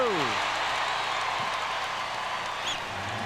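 Basketball arena crowd at a 1996 NBA Eastern Conference Finals playoff game in Orlando, Bulls vs Magic, roaring steadily after Shaq's free throws, a broad sustained cheer with a commentator's voice faintly present underneath.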